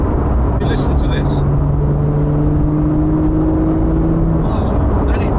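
A Porsche GT3 with the 4.0 engine revs and accelerates in a steady, loud drone, its rising engine tone sustained throughout under occasional talk.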